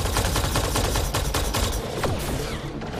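Dense, rapid enemy gunfire from Mass Effect Andromeda fills the scene, with overlapping bursts that stay loud and close throughout and ease slightly toward the end.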